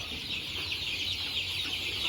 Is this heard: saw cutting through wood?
no